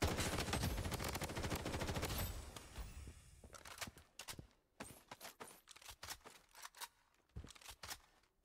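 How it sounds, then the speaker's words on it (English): Gunfire in the PC shooter Blood Strike, a dense loud automatic burst that gives way to scattered, sharp individual shots of varying loudness, close and with no speech. "Taking fire!"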